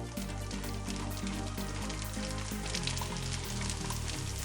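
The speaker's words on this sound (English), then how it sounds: "And then I fried it." Small flattened, pancake-like cookie balls fry in hot oil with a continuous soft sizzle and crackle, steady and close, with no talking.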